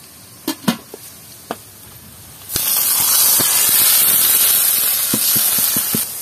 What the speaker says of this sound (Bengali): এখন আমরা খুদগুলো দিয়ে নিব।